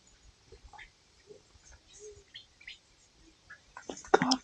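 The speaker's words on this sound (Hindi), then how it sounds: "रेड बेंटेड बुलबुल।" Red-vented bulbul calling in the Uttarakhand Himalayas, giving scattered faint chirps at a distance, then a louder burst of sound near the end.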